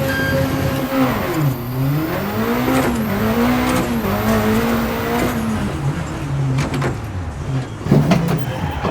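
A Peugeot 205 rally car engine in a driving simulator revs hard and drops through gear changes into a hairpin, its pitch rising and falling, loud and close, with brief tire noise near the end.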